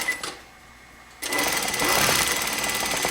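A sewing machine stitches a French seam with a 3/8 inch seam allowance, starting after a quiet pause and then running steadily and loudly close by to the end.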